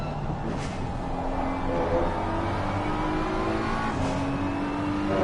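A BMW race car engine in Assetto Corsa Competizione, heard on board at Indianapolis, roaring steadily and loud with rising pitch sweeps as it accelerates through the gears.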